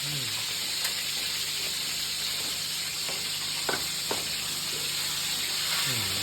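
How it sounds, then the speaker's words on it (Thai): Chicken frying in oil in a home kitchen, a steady close sizzle and hiss with a few sharp pops and clinks from stirring, with no talking over it. "นี่ทอดไก่อะ"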